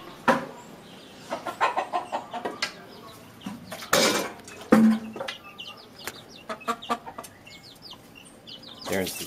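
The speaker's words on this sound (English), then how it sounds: "There's the chickens in the back" Hens cluck in short, uneven bursts nearby, with occasional clatters and soft background sounds between them.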